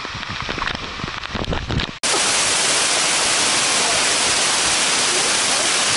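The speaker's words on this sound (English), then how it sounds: "Just a little bit of hail." Hail falls at a trail cabin on the Appalachian Trail: after a faint, patchy start, a sudden dense, loud hiss of pelting ice takes over and holds steady to the end.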